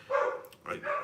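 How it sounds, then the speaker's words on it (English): Dog barking outdoors, a short-haired pit bull and pointer mix, giving two or three quick barks at moderate distance. "There's something outside. You can hear him barking right now."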